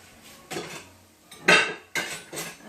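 Ceramic bowls clink and clatter as they are set down and moved around a home kitchen, several sharp close knocks in quick succession with no talking.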